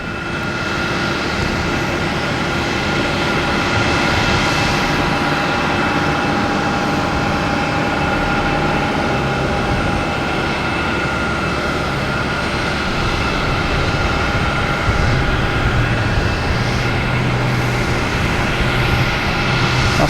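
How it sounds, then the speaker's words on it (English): A JetBlue Airbus A320 airliner arrives at Boston Logan Airport, its jet engines producing a continuous loud roar with a low rumble building toward the end. "We have a JetBlue coming in from Nashville, an A320"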